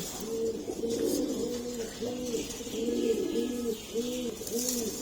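Domestic pigeons, including Army, Lal Patti and Pankhi breeds, coo steadily in a loft housing about five pairs, giving a close, continuous run of rolling, repeated coos that overlap one another with no talking.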